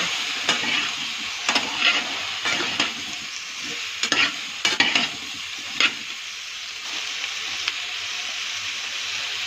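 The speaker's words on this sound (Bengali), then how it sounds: "হলুদ দিয়ে একটু ভালো করে নেড়ে নেব।" Turmeric is stirred into food frying in a pan, a steady close sizzle broken by repeated scraping strokes of the spoon at an uneven rhythm, with no talking.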